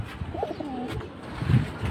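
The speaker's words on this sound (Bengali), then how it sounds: "এক জোড়া দুই জোড়া করে অনেক ধরনের কোয়ালিটির কবুতর দেখতেছেন" High-flying pigeons at a sale coo softly nearby, a few low, throaty calls rising and falling over faint background noise.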